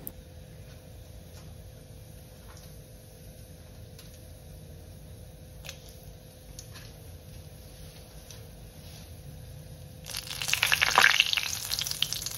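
Whole spices, bay leaves, cloves, cardamom and cinnamon, frying in hot mustard oil, a quiet steady crackle and hiss with faint ticks, rising to a louder burst of sizzling near the end.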